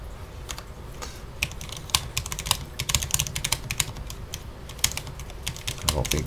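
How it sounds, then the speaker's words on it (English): Typing on a Cherry MX 10.0N RGB low-profile mechanical keyboard with speed switches, producing close, crisp, uneven clacks in a steady stream over several seconds, with no talk over it. "I could even type on it like this if I wished."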